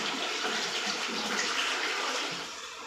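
Water gushes steadily from a pot into a fish tank as it is being refilled, a close, continuous splashing pour that tapers slightly at the end, with no speech.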